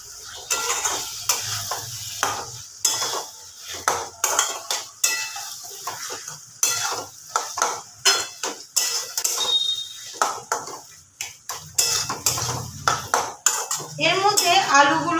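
Mutton mince curry fried and stirred in a pan, with a spatula scraping and clattering against the metal in repeated strokes over a steady sizzle, close and fairly loud.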